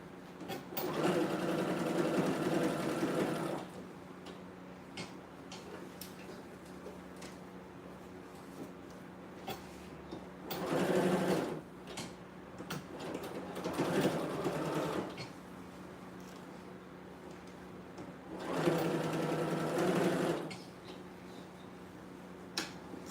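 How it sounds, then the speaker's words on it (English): A sewing machine runs top stitches along the back of a garment in three distinct bursts, loud and close, with quiet pauses and faint background between runs. "I'm doing some top stitches on the back."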